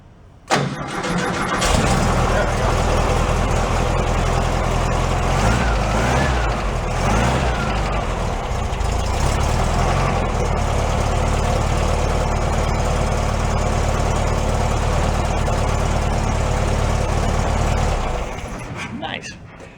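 A 1968 VW Double Cab engine cranks and catches, then runs at a loud, close, steady idle with a few revs before being shut off, with people talking over it.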